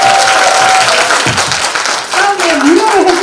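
Applause from the crowd at a Korean social workers' day ceremony in Hamyang, honoring a professor after his lecture. Dense clapping fills the room with a tonal squeal running over it, and a voice can be heard through the noise.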